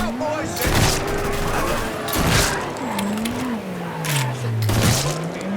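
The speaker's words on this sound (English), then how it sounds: "you can fire your weapons while driving, and the game will let you cycle through targets at the press of a button" Weapons firing from a moving car in Mafia III, loud bursts of gunfire at roughly one-and-a-half-second intervals over a steady engine drone whose pitch rises and falls.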